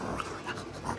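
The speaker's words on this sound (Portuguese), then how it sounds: "O cachorrinho que a senhora tava falando direto" A three-month-old puppy pants and whimpers faintly and continuously at close range, with soft breathy sounds throughout.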